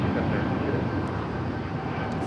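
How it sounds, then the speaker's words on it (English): An American 787-9 Dreamliner bound for Chicago O'Hare roars down the runway at LAX, a broad continuous jet rumble filling the scene at steady loudness. "Got that American 787-9 Dreamliner flight heading to Chicago O'Hare as our next takeoff."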